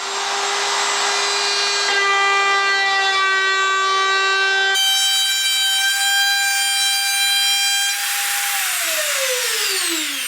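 A router fitted to a Bora router plate cuts wood with a loud, sustained high whine that shifts pitch partway through and drops off as the motor winds down at the end.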